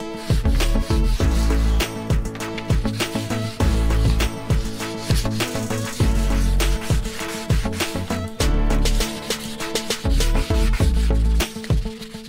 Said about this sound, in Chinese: 首先用呢個最粗嘅砂紙打磨啦